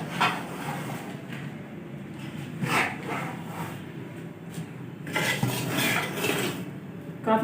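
Spoon stirring flour and flaxseed in a pan, the flour already toasted golden: continuous scraping and clinking of metal against the pan, with a few louder scrapes, steady throughout.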